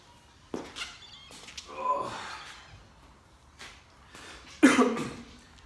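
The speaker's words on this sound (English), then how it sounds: "For me, the worst thing is this dry cough." Several sharp, dry coughs ring out at intervals in a quiet room, the last one louder and closer, with breathing between them.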